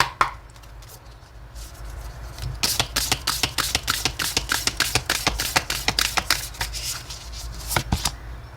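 Oracle cards are shuffled by hand in a quick run of crisp, rhythmic riffling slaps, close and clear, following a short quiet pause with a faint hum underneath.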